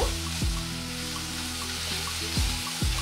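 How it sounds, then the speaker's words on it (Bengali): Vegetable filling for Mughlai paratha fries in a pan with a steady, close sizzle, broken by a few sharp scraping strokes, while a tonal musical bed plays underneath. "এখন আর একটু ভেজে নেব।"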